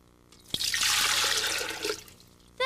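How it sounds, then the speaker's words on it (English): Water from a dishwasher pours into a beaker as a short, full splashing gush lasting about a second and a half, close and clear, then stopping abruptly without any talk. "let's add some water from the dishwasher."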